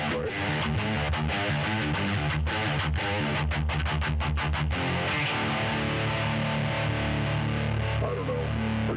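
Guitar amplifier on its red channel with effects, script switch off: a dense, distorted electric guitar riff with choppy muted stabs early on giving way to sustained chords, loud and continuous.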